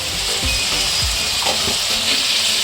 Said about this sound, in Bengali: একসঙ্গে কষিয়ে নেব।